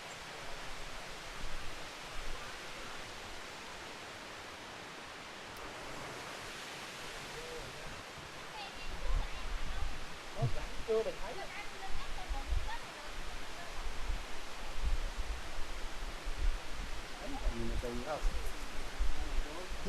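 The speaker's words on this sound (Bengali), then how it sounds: "আমরা এখন ঝর্ণার শব্দ শুনতে পাচ্ছি" Minnamurra Falls roars as a continuous rushing wash that grows louder and fuller halfway through, as if drawing nearer, while people talk now and then over it.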